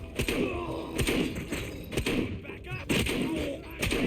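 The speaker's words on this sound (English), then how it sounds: "Oh no, that's a shotgun." Shotgun blasts fired in the RoboCop Rogue City video game, a run of about five heavy booming shots at a steady rhythm, close and loud, with a voice talking over them.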